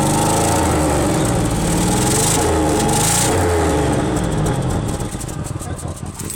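A 2000 Dodge Grand Caravan SE engine revs loudly through its exhaust, a continuous droning roar with rising and falling pitch, recorded up close, dropping slightly near the end.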